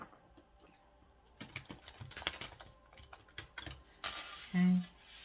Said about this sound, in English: second shuffle